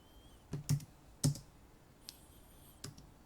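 A few keystrokes and clicks on a computer keyboard and mouse while drawing in CAD software, close and quiet, in short irregular taps against a faint room hum.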